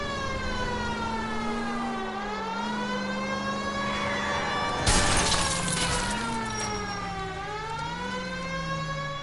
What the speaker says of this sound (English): Do you not hear the goddamn siren?